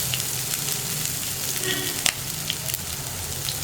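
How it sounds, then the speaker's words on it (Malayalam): Ginger and urad dal stir-fry in a hot pan for wheat flour upma, with a steady close sizzle, a scrape of the spoon near the middle and faint stirring clinks. "ഇഞ്ചി ചേർത്തിട്ട് ഇഞ്ചിയുടെ ആ ഒരു റോ ടേസ്റ്റ് മാറി വരുന്നത് വരെ ഒന്ന് ഇളക്കി കൊടുക്കുക"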